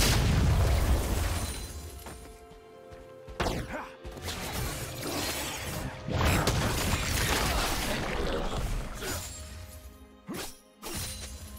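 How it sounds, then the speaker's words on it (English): A League of Legends turret is destroyed: crashing, shattering impacts and booming blasts over several seconds, loud and layered, with brief lulls between bursts of debris and mechanical clatter. "Blue team's turret has been destroyed."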